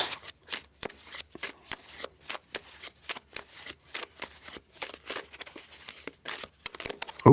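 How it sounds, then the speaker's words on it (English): An oracle card deck shuffled by hand, rapid repeated riffling bursts in an uneven rhythm, close and crisp, with a thump at the end. "let's cut this deck here and move on to the next deck"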